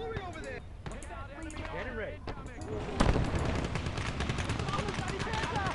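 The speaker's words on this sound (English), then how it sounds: "Enemy machine gun!" Machine gun fire in the World War II video game Gates of Hell, with bursts of rapid gunshots and battle noise under overlapping voiced radio chatter, growing denser and louder in the second half.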